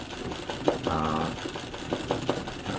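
An embroidery sewing machine stitching a Christmas tree design, its rapid mechanical whirring and needle ticking running steadily up close, with a brief burst of faster stitching partway through.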